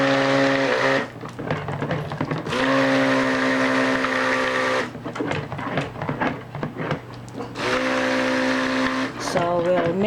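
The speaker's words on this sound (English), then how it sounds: "blend this in until all the mixture, the oil and the milk and lye is completely mixed." An immersion blender whirs in bursts while mixing oils, coconut milk and lye into soap batter, loud motor drone switching on and off several times with brief pauses between runs.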